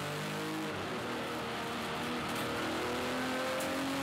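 BMW race cars, including a BMW Z3, accelerate out of the pit lane at Hampton Downs, heard on board as a steady, loud engine drone with rising revs and gear changes and no talk.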